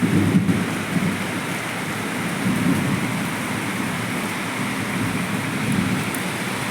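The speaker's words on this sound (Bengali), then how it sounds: "খুব জোরে মেঘ ডাকছে।" Heavy rain pours steadily at dawn in a dense, even hiss, while deep rolls of thunder rumble underneath and swell at times.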